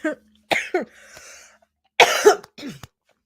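Several sharp, close coughs come in short bursts, mixed with throat clearing and rough breaths.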